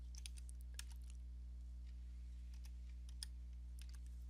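Quick bursts of typing on a computer keyboard, faint and sparse clicks in short clusters over a steady low electrical hum, with no voice.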